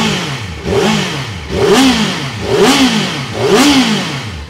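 A Kawasaki ZX-4RR motorcycle engine revs in four quick, loud blips, rising and falling sharply in regular succession at close range.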